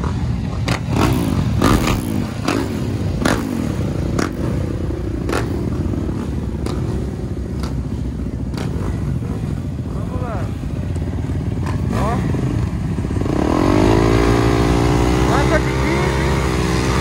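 Motocross motorcycles racing in an MX4 class event, engines buzzing and revving at varying distances with one bike passing loud and near toward the end; people talk over the noise.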